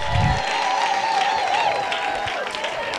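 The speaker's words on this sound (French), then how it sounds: "Acclamons pour Fabrice" A church congregation applauds and cheers for Fabrice, with a dense, continuous wash of clapping and shouts that holds steady throughout, loud and crowded.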